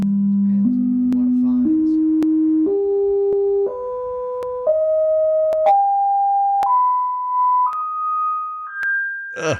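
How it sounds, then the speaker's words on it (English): A sequence of steady electronic test tones stepping upward in pitch, played through a toilet pipe, each held about a second, with a slightly hollow, resonant coloring and faint noise underneath. "They're running the tones through there."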